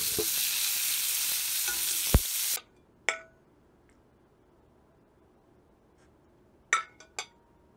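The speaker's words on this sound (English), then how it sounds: "Here's some royalty-free cooking sounds since time-lapse doesn't record audio" Loud, steady sizzle of food frying fills the first couple of seconds, then stops abruptly, leaving a few sharp clinks of a utensil against the pan in near silence.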